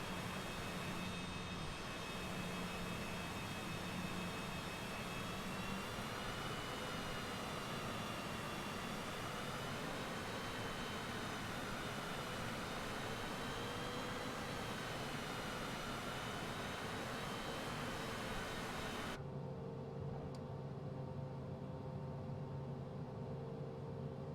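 A Citation CJ4 business jet taxiing in Microsoft Flight Simulator 2020, with a steady whining engine drone that holds evenly throughout before shifting to a thinner tone near the end.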